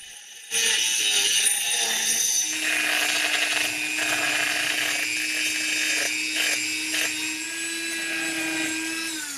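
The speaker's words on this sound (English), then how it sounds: "I'm grinding down the end of one of the pilot's battery hold down bolts to a conical shape with a Dremel" A Dremel grinds the end of a battery hold-down bolt from a 2004 Honda Pilot into a cone. It whines steadily at high speed, starts abruptly after half a second, and runs loud and close for about nine seconds.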